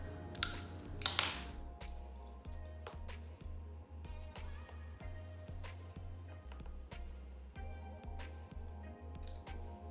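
Cutters snip off the excess ends of plastic cable ties on a DIY flower pot made from a damaged bike pump. Two crisp snips come early, then steady faint rhythmic ticking and tapping continue in the background.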